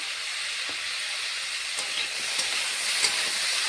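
Bata fish frying in a pan with salt and turmeric gives a steady, close, even sizzling hiss with a few faint crackles, alone and without voices.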